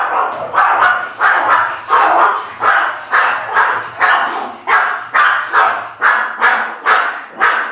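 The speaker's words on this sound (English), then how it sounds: "The dogs are barking because the mailman's coming." Dogs bark at an approaching mail carrier, loud and close, in a fast regular string of about a dozen sharp barks at a steady rhythm with no talk.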